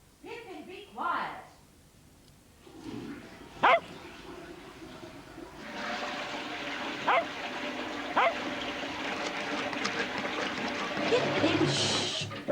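A small dog in a children's programme yips and barks a few times over running water, sharp close barks scattered through a steady watery hiss, with a person speaking near the start.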